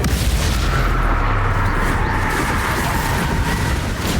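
Confringo blasting curse from Hogwarts Legacy going off as a dense, booming explosion, loud and continuous with heavy low rumble throughout, fading slightly only at the very end.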